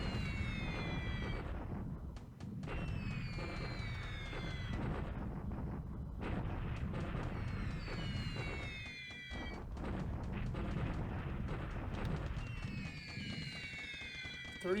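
Bombs burst on a target in a World War II video game, a rapid string of loud booms and rumbling blasts interleaved with whistling high tones, continuous and fairly dense.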